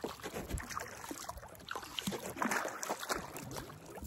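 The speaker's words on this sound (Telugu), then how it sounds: "ఈ పడవ ఈ తెడ్డు కొట్టాలంటే చాలా స్ట్రామినా ఉండాలి." A rowing boat paddled by oar on the Kinnerasani waters, soft irregular splashes and trickles with faint knocks, quiet and close, no clear talking.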